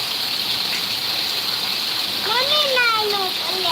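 Heavy rain pours down and water gushes in a steady, broad hiss and rush. A voice rises briefly near the end over the downpour.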